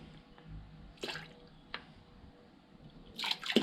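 Soft pouring and dripping of cleaning liquid into water in short bursts, with a louder splashy pour near the end, close by in a quiet room.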